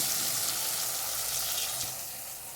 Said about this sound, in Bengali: একটু ঘুরিয়ে এইভাবে তেলের মধ্যে ছেড়ে দিলাম